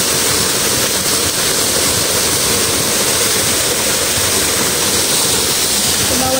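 Ragatan Falls in Barangay Mabato, Maragondon, pours in a steady, loud, broadband roar of falling water that holds evenly throughout with no breaks.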